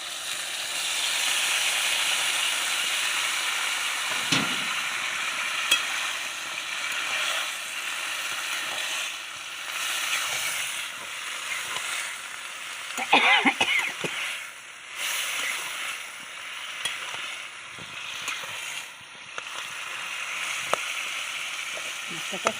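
Bottle gourd tipped into a hot pan of fried fish and spices, setting off a steady broadband sizzle and hiss that runs throughout, with a brief louder burst midway and faint clinks of utensils.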